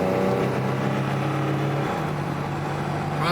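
A 1982 Camaro Berlinetta engine holds a steady half-throttle rev, a close, continuous drone with a faint rise in pitch at the very end.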